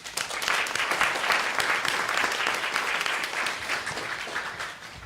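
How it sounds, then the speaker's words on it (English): Audience applause for presenters at an energy fellowship event, a dense, sustained wash of clapping from a sizable crowd, steady and moderately loud for several seconds. "Let's give another round of applause to all of our presenters today"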